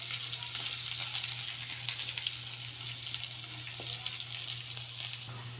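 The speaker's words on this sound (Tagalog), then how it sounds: "Konting toast lang ng bawang." Garlic toasting in a pan for red chicken adobo gives a steady, close sizzle with crackling pops throughout, over a constant low hum and no talking.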